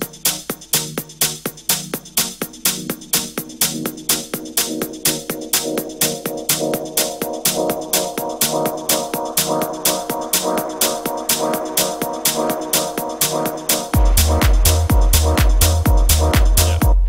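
Electronic music track with a low-pass filter cutoff automated in FL Studio 12, a driving repeated beat whose tone opens and brightens over time before a deep, heavy bass drop hits near the end.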